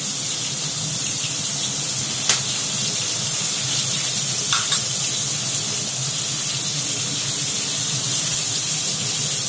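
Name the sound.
pointed gourd (potol) frying lightly in a pan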